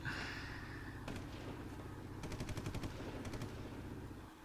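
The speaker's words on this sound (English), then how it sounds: "They just stood there while I was listening to gunshots." Rapid bursts of gunfire ring out in a cutscene of the video game Dead Rising, with short rattling volleys over a steady rumbling background, moderately distant and without speech.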